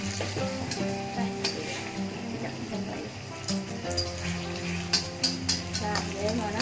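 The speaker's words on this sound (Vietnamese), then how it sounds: "Rồi quậy lên, trộn lên hả?" Food is stirred and mixed in a cooking pot while making shrimp bún riêu, a close scraping and sizzling texture beneath steady background sounds, with people talking.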